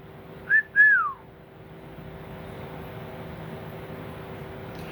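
A person whistles two short rising-falling notes close by, then stops, leaving a faint steady background hum.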